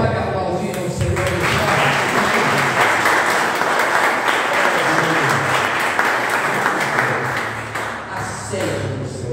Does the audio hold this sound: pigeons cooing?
no